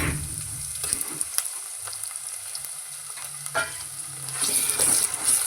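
Onion and green chili fry in oil, a bright steady sizzle with occasional spatula scrapes and taps, growing a little louder toward the end; no speech.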